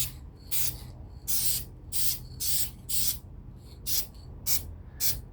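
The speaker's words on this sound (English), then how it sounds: "And for the Picatinny rails, this is a flat blade spray." Short hissing bursts of spray paint coat an Umarex airgun, about eight quick passes in a steady on-off rhythm, close and crisp with quiet gaps between.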